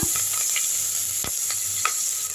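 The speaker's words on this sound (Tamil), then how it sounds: "ஒரு கைப்பிடி அளவு வெங்காயம் கருவேப்பிலை கொஞ்சம் போட்டுடலாம் எல்லாம் செஞ்சு நல்லா வதக்கிடுங்க" Onions and curry leaves sautéing in hot oil for an okra curry, making a close, even sizzle with a few light stirring clicks and no voices.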